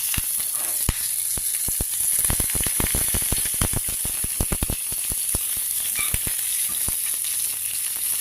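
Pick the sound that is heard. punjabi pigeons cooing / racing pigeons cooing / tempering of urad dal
tempering of urad dal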